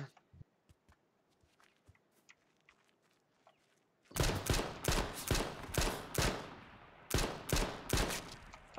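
Pistol gunshots from the H1Z1 video game, a quiet stretch with faint ticks giving way to a dense run of sharp, loud shots in irregular bursts over several seconds.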